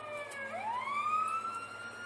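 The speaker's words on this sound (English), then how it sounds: "Of course, it's got the normal sirens." A wailing police siren in GTA 5 sweeps upward and holds a steady high tone, with a synthetic, game-like quality and no voices.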